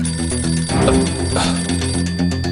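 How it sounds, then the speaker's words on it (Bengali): A telephone rings insistently in a TV crime drama scene, a bright repeating electronic ring pattern that continues without pause, close and loud, with no voices over it. "এই ফোনটা না যখন তখন বেজে ওঠে।"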